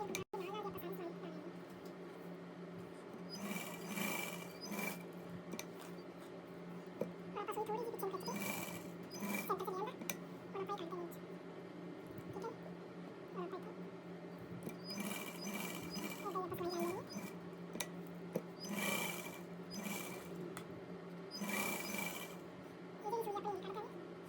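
A sewing machine stitches lace and buckram along a neckline with a repeated mechanical whir, running in several bursts separated by pauses, close by and fairly quiet over a low background hum.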